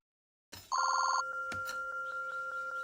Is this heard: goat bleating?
no